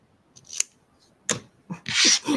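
Scissors trim ribbon ends in a few quick, crisp snips close by, with faint rustling between cuts.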